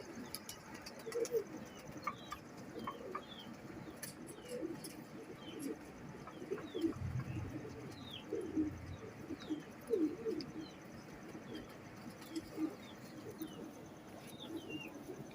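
Miyan Sahab breed pigeons coo steadily and close, layered low murmuring calls repeating in soft rhythmic bursts, with faint chirps from other birds scattered above.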